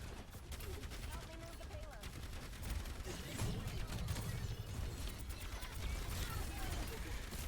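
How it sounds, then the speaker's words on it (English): Gunfire and spear attacks clash in an Overwatch 2 Orisa duel, a dense, continuous stream of rapid shots and impacts with a caster voice talking over it throughout. "Orisa's trading spears and headshots at each other."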